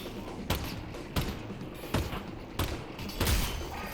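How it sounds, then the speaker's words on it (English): Gunfire in the virtual reality game Half-Life: Alyx comes as five punchy shots spaced roughly half a second apart, loud over a dense, noisy game background. "I'm shooting."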